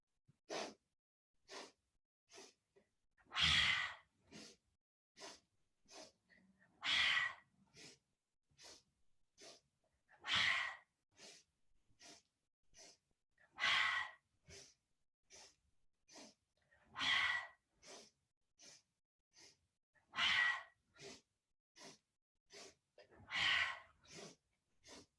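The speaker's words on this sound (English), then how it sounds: "We're gonna do breath of joy. It's gonna be 3 inhales and an exhale." A yoga breath-of-joy exercise repeats at a steady rhythm, with three short, sharp inhales through the nose followed by a long, forceful exhale. The breathing is close and clear, the cycle comes around about every three to four seconds, and the spaces between are quiet.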